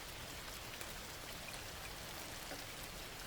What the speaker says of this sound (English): The sound of the drops hitting the windows of my house hard filled the house with a dull,